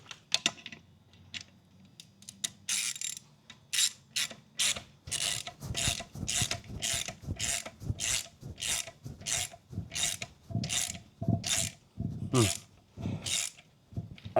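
A socket ratchet clicks in rapid bursts while turning a tight bolt on an 8th-gen supercharged Honda Civic Si K20Z3 engine, the strokes quickening and louder after a few quieter opening clicks.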